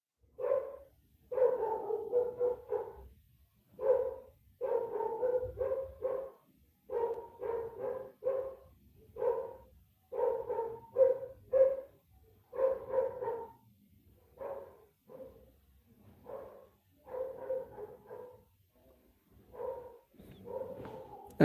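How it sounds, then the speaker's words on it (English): Dogs bark outdoors at night, repeated volleys of woofs in uneven bursts throughout, fairly distant and moderately faint, with short pauses between clusters. "Can you hear the dogs?"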